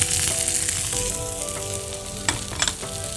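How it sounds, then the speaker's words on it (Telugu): Finely chopped carrots, peas and sweet corn sauté in a hot pan with a little salt, giving a steady, even sizzle with a few sharper crackles and pops near the end, with no voices. "కొంచెం సాల్ట్ వేసి సాట్ చేసుకుందాం."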